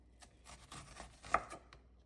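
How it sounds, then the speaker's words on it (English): A knife chops an onion thinly on a cutting board, giving soft, quiet taps spread unevenly over two seconds, with one sharper, louder knock near the end and no voices. "you chop it as thinly as you possibly can"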